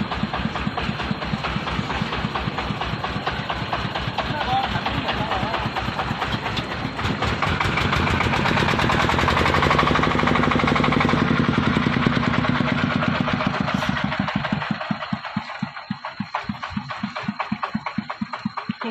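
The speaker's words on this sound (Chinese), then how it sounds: "你看这张拖拉机" A tractor engine runs steadily on a rain-soaked dirt road at a tobacco-leaf harvesting site, a loud, rough low chug that swells louder midway and then settles back to a lighter idle.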